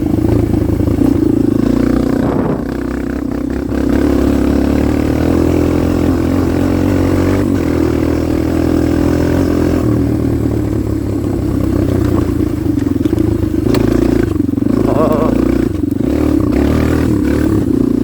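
A Kawasaki KLX 230R motorcycle engine runs steadily for the whole stretch, a loud, close, low-pitched drone with some mechanical clatter and slight shifts in pitch, with no talking over it.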